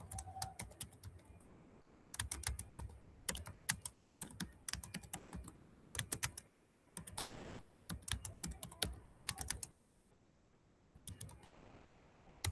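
Bursts of quick keystrokes on a computer keyboard, close and crisp, come in uneven clusters separated by short pauses, with a few louder key clicks among them and no talk.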